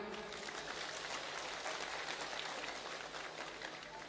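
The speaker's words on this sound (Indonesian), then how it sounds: "Tolong tepuk tangan, Pak." Audience applause at a public talk, a faint, steady wash of clapping heard at a distance, continuous for a few seconds.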